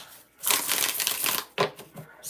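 Cards are shuffled for a reading in two close, rapid clattering bursts: a long riffle of about a second and a shorter one after a brief pause.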